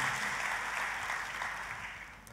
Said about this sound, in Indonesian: Tepuk tangannya pula yang paling meriah buat Tuhan kita.